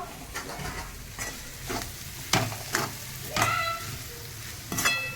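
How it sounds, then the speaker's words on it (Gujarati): A vegetable tempering sizzles and spatters in a hot pan at home as it is stirred, giving a steady crackle with sharper bursts every second or so, close up and with no voices. "શાક વઘાર દીધું છે જુઓ"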